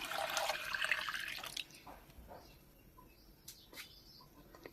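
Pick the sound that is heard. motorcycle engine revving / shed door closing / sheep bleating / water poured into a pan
water poured into a pan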